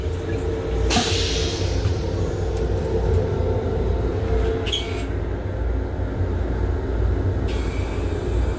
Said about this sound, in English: This is the train to Redstone.